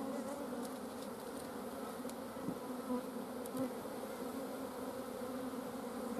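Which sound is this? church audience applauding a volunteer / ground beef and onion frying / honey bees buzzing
honey bees buzzing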